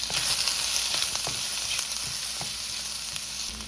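Carrots and rice frying in a pan for Dominican chofan fried rice, a steady close sizzle with light stirring scrapes, no voices.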